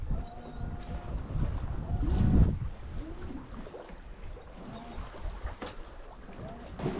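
Sailboat under genoa, jib and mainsail crossing the Atlantic Ocean: water sloshing and rushing along the hull with wind buffeting, a surge swelling around mid-clip, plus faint creaks and rigging sounds, no voices.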